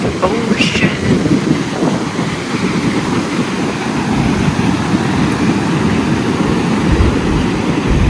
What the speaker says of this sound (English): This is the power of the Atlantic Ocean.